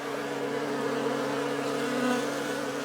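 Honey bees buzz steadily at a backyard beehive in winter, a close, continuous droning hum with no pauses and no voices.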